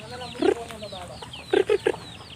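Chickens and chicks clucking in a backyard pen where ducks and chickens are raised, with short bursts of soft clucks and a few sharp calls, including a loud cluster of three near the end, over faint background chirping.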